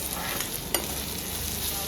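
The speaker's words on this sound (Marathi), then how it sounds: "कांद्याचा आवाज तो सर्र यायला पाहिजे, सर्र।" Chopped onions hit hot oil and fry for kande pohe, a dense continuous sizzle close by with a single faint clink partway through.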